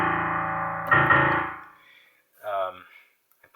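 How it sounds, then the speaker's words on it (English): The lowest note on a Yamaha DGX-640 digital piano booms loud and close as a rich, buzzing sustained tone that decays over about a second and a half, followed by a short burst of speech. "And then, of course, the lowest note."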